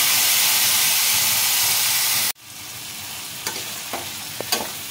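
Water hits hot oil and spiced okra frying in masala in a pan, a loud steady sizzle that suddenly cuts to a softer, crackling simmer with a few small pops.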